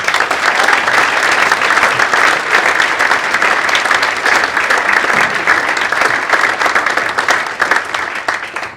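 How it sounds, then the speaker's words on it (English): A large audience at a football club's Player of the Year awards night gives a loud, sustained round of applause, dense clapping filling the room evenly for several seconds with no speech over it. "Please give everyone, these backroom heroes, a massive round of applause."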